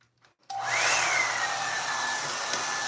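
A handheld hair dryer with a large head switches on after a brief quiet moment and blows steadily and loudly while styling dry hair, its airflow holding one constant whoosh with a faint whine to the end.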